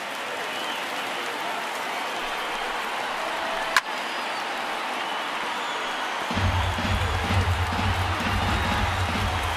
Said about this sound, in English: this relatively sparse crowd comes to their feet one final time